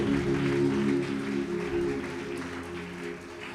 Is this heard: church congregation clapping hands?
yes